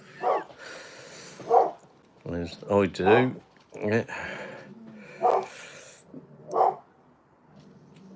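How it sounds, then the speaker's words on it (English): Pet dog in a home spotting a squirrel in the garden, giving several loud, sharp barks spaced a second or so apart. Brief human speech is mixed in between the barks. "Excuse my dog. She's obviously spotted a squirrel in the garden."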